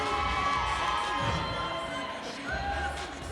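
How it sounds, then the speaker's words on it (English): A roller derby bout crowd cheers and shouts loudly throughout, a dense roar of voices echoing in an arena, with a few thumps and crashes mixed in. "Make some noise for Booty Collins and Team Unicorn."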